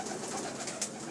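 Soft, steady cooing of pigeons with a constant hum of birds in the background, no voices.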